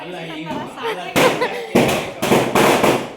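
Firecrackers burst in a few sharp, loud cracks in succession, with people talking nearby between and under the bangs.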